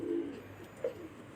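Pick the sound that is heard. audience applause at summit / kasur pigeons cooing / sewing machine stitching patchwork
kasur pigeons cooing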